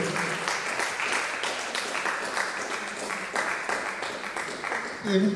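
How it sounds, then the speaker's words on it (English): An audience at an academic conference on human-centred AI and gender equity applauds steadily throughout as a woman walks to the podium, a dense, even patter of many hands filling the room. "A round of applause as she makes her way to the podium."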